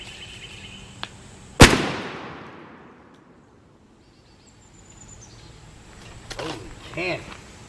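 A single loud, sharp shotgun blast from a Winchester XR 3.5-inch Long Beard turkey load, with a long echoing decay that fades into quiet outdoors; a few faint sounds follow near the end.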